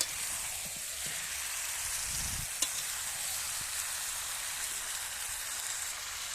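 Chicken pieces coated in spices and mixed with fried potatoes are stirred in a pan, giving a steady close sizzle with soft scraping and a brief louder clank partway through; no voices.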